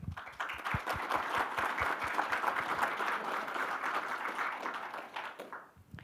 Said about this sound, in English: let us give him another big round of applause